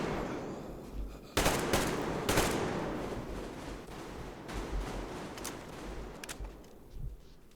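Weapon fire in Metro Exodus: loud, close bursts of gunshots and short automatic volleys scattered across several seconds, with reverberant decay between them.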